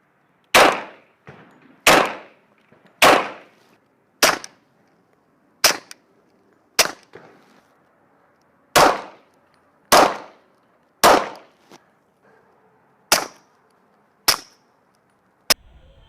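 About a dozen sharp gunshot reports fired one at a time at irregular intervals of roughly one to two seconds, some louder and some more muffled, comparing suppressed and unsuppressed shots, each crack decaying quickly into quiet, with no voices.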